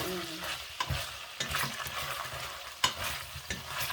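Chicken stir-fries in a pan until dry and crispy, a steady close sizzle broken by repeated scraping and clinking strokes of the spatula, no talking.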